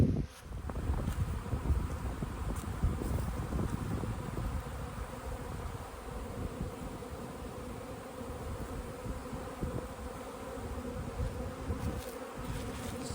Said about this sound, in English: Awesome bee flight.